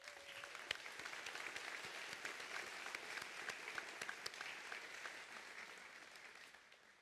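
A commencement ceremony audience applauds for graduates' families, a steady wash of many hands clapping at a distance in a large hall, sustained for several seconds and fading slightly at the end.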